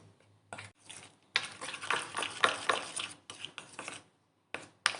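Khari patty filling stirred in a bowl, a spoon making bursts of scraping and clattering strokes with short pauses between them, close and fairly quiet, with no voices.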